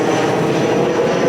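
A fixed-wing airplane roars loud and steady near the airport in Tahiti, a continuous broadband engine drone filling the whole moment with no voices over it.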